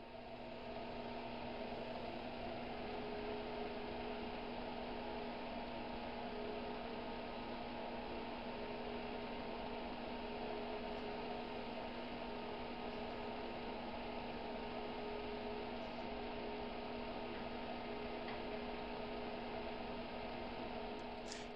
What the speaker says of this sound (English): I have a blower fan in the back there, which is used to vent any formaldehyde fumes which might come off after heating the formaldehyde solution